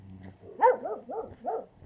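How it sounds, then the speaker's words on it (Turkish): Several dogs bark in a Bulgarian village in the Kırcaali region, four quick barks in a row at moderate distance, with no one talking over them. "Köpekler var galiba."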